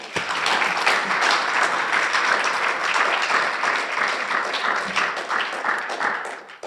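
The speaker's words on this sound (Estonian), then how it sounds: "teeme talle suure aplausi." An audience at an Estonian literary evening gives warm, continuous applause, a dense even wash of clapping with no speech over it.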